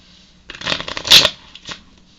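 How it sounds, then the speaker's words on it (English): A deck of playing cards is shuffled by hand up close, a quick riffling burst of crisp paper flutters peaking into a sharp bridge-like whirr, then a softer final ruffle. "You can do any kind of shuffle you want just to mix them up."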